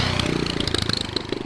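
A 420cc trike engine runs naturally aspirated after its turbo setup is bypassed, giving a close, rapid, steady pulsing chug with clattery mechanical noise and no talk over it.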